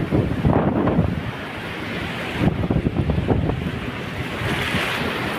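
Steady wash of sea waves breaking on a shore with gusty wind buffeting, loud and continuous, no voices.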